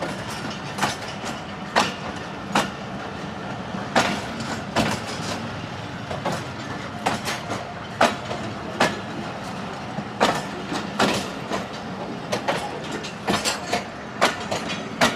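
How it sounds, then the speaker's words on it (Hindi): Mehr Express train pulling into Golden railway station on the Rawalpindi to Multan line, wheels clicking rhythmically over rail joints in loud, repeated clacks with a steady rumble beneath. "128 डाउन महर एक्सप्रेस पहुँची है जी गोल्डन रेलवे स्टेशन।"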